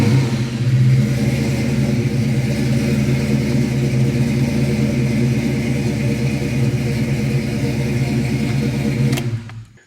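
Ford Fox body car engine, recently fitted with a new radiator, runs loud and close in a steady, rough drone at raised revs, then cuts off abruptly near the end.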